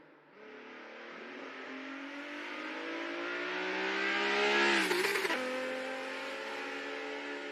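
A race car engine in a virtual racing game climbs steadily as the car exits the pits in a SuperLap event, a loud sustained drone that builds with a sharp burst near the end.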